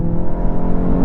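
A 2022 VW Golf GTI S launching hard off launch control from about 4,000 rpm, its engine a dense, steady, loud roar with a strong low rumble throughout.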